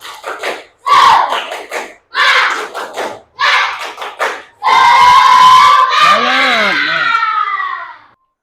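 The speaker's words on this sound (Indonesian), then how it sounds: "Tepuk semangat." A classroom of students performs a spirit clap chant: bursts of rhythmic clapping and shouted chanting in several loud segments, ending in a sustained group cheer with rising and falling voices.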